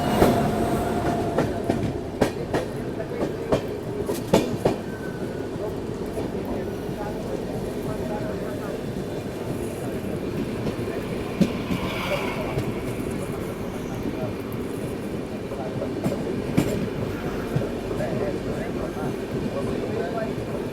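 New Delhi–Howrah Duronto Express running at speed, heard from inside a 3AC coach: a continuous rumble with steady clickety-clack of wheels over rail joints, loud and unbroken.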